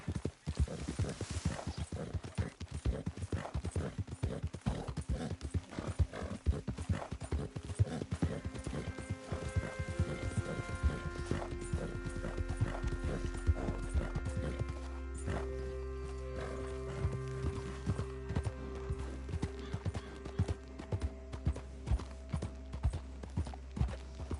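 Horse hooves trot in Red Dead Redemption 2, a steady, quick clip-clop rhythm over about twenty-four seconds, with creaking tack, a low engine-like drone and a brief whinny.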